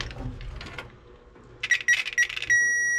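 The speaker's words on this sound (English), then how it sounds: "remember that beep? That means we got power" A short electronic beep from a power probe rings out, then holds as a steady high tone, after some quieter clicks and rustling handling noises nearby, while testing a bullet connector on a 1965 Ford F100 truck.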